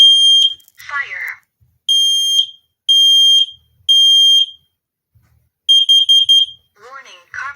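A combined fire alarm and carbon monoxide detector running its test cycle: a synthetic voice, a series of loud piercing beeps in groups with gaps, a quick burst of rapid beeps, then the voice again.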